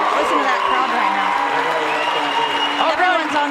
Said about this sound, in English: listen to that crowd right now.